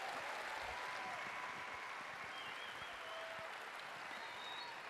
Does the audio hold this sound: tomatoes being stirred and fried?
no